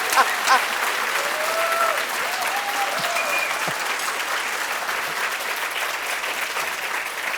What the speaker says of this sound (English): I think this deserves even bigger applause for the match tomorrow